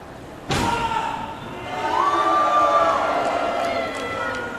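A wrestler is powerbombed onto the ring mat at a live FWA wrestling show at the MCM Expo: one sharp, heavy thud lands close, followed by a swelling crowd murmur that lingers behind it.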